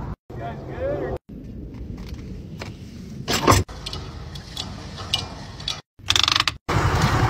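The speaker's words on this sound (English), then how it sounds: "But first, I gotta gas up." A golf cart is refuelled at a gas pump, with mechanical clicks and ratcheting clunks from the nozzle and pump handling, plus a few louder bursts of handling noise in between.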